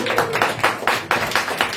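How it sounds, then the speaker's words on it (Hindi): A church congregation claps together for Jesus in a quick, even rhythm of about eight sharp, close claps, with no voices over them. "क्या एक बार ताली बजाते हैं यीशु के लिए?"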